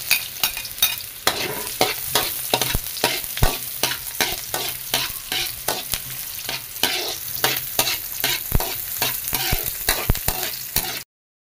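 Onion and garlic fry in oil in a pan, making a continuous, close sizzle with frequent scraping stir strokes and crackles throughout, stopping abruptly at the end.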